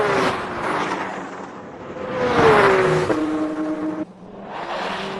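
Race cars accelerating during a race, engines whining and rising in pitch as they pass close by, then a brief drop before another car surges through, with no talk.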